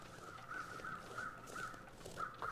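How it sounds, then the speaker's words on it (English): Crows caw repeatedly in the video game The Long Dark, a steady series of about six harsh calls at an even pace, moderately distant over a soft wind-like ambience. "Crows."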